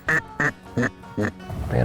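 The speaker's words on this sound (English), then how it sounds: "Man, I'm blowing my best go-away call." A duck hunter blows a go-away call on a duck call in a restored Louisiana salt marsh: four loud, evenly spaced quacking blasts close by, followed by a longer, rougher note.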